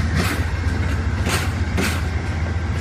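Amtrak P40DC heritage unit 822 rolls by with a steady, loud low rumble and rail noise, close and continuous, with brief swells of wheel hiss.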